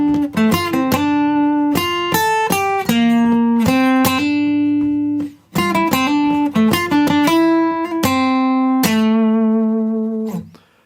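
Guitar playing the melody of a piece from God of War Ragnarök, clear plucked notes in two phrases, some quick runs and held ringing tones, played alone and up close.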